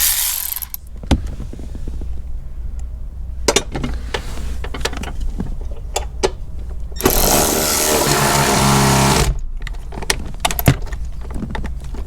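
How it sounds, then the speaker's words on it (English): A Milwaukee power ratchet tightening the battery hold-down clamp on a 2017 Jeep SRT Grand Cherokee, with scattered clicks and clanks, then a loud sustained whir for about two seconds, followed by more sharp metallic knocks. "Cheating with our Milwaukee power ratchet."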